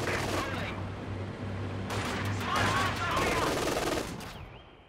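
Machine gun fire in the Company of Heroes Ostheer commander game, rapid bursts mixed with battle noise and a low engine hum, with talk faintly underneath.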